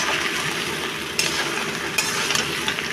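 Bottle gourd cooking with a hilsa fish head in hot mustard oil with five-spice and green chilli, a steady, dense sizzle with a couple of brief sharp pops, close and loud.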